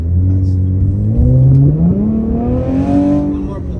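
A 2020 Chevy Camaro RS accelerates through a pull, its loud engine note rising steadily in pitch over a few seconds, close and continuous.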